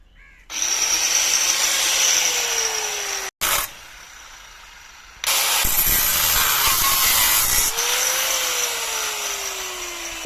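A power tool, likely an angle grinder, cuts through old clamps underneath a hen house being rebuilt, whining loudly in long bursts with a short pause and a pitch dip as the blade bites into metal; no talk.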